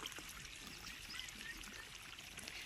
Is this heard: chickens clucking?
no